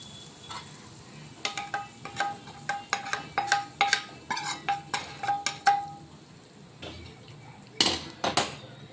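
Shredded cabbage with a spiced tempering is stirred in a pan, giving a run of sharp metallic spoon clicks and scrapes in quick rhythmic bursts over a faint sizzle, with a pause before a final few louder knocks.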